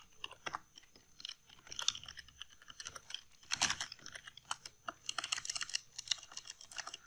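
Fast, uneven typing on a computer keyboard that has a sticking key, with close, quiet clicks coming in irregular clusters and no speech.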